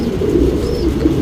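A racing pigeon coos loudly and close by, a short continuous throaty rolling coo with no other sounds.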